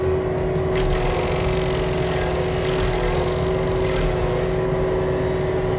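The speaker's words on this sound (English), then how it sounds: "So now I'm going to go ahead and run the engine idle up." Cat stump grinder engine running steadily and loud, a continuous close drone with a strong steady hum, rising slightly as it revs, no talking.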